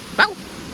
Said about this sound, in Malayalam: ഏതൊരു പട്ടിയുണ്ട് ഇവിടെ.